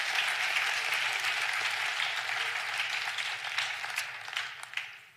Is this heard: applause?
yes